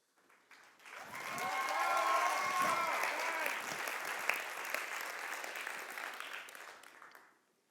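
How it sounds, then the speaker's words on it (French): An audience applauds a finalist at a youth competition in Quebec. Loud, sustained clapping swells quickly and fades after about seven seconds, with cheering voices mixed in. "Merci d'accueillir avec une bonne main d'applaudissements pour une dernière fois."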